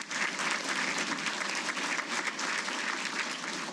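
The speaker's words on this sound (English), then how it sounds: "give the Gaskell entourage a round of applause" An audience at a Hall of Fame ceremony gives a sustained round of applause, dense and even clapping throughout with no voices on top.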